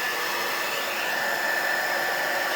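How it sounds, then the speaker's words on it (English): A heat brush blowing hot air: a steady close whooshing drone lasting a couple of seconds, with no talk. "This is the other heat brush, but it does sometimes do a good job of blowing."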